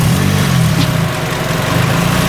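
A Nissan S13 idles steadily with a low, even rumble after a torque damper has been installed. The engine is close and fairly loud, with no clear revving and no voices.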